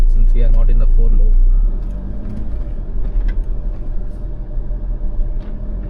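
A 2025 Jeep Meridian 4x4 engine rumbles steadily with low road noise and slushy churning underneath, close and loud, while people talk over it.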